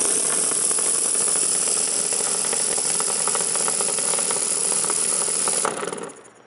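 A model steam engine kit runs on compressed air, a loud, steady mechanical chuffing whir with fast rhythmic pulsing that cuts off abruptly near the end and fades out.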